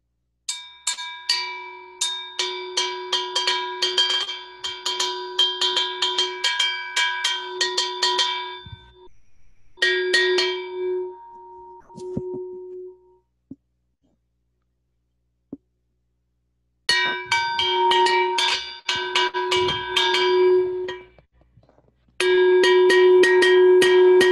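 A metallic cowbell struck in quick rhythmic patterns, bright and clanky, in several bursts separated by short silences.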